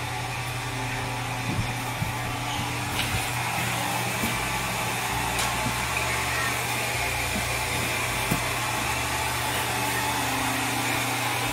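A hair dryer blows steadily for several seconds, a constant whooshing motor hum close by with faint voices in the background.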